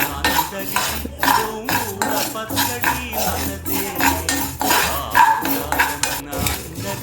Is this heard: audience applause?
no